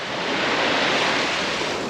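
Steady rush of sea waves on the Sicilian coast at Novara di Sicilia just after sunset, a continuous broadband surf wash with some wind noise on the microphone, alone with no voices.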